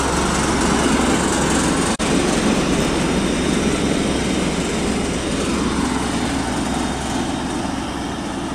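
A combine harvester works a field of paddy, its engine and cutter giving a loud, steady, close roar that barely changes, with one brief sharp click partway through.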